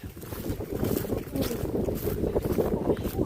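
Wind blows in steady, buffeting gusts close to the microphone, giving a low rumble that is continuous and moderately loud throughout, with no clear speech on top.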